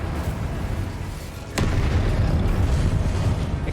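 A fiery spell explosion in the Hogwarts Legacy video game: a low rumbling bed, then a sudden sharp burst that swells into a sustained heavy roar, loud and close, with no talking.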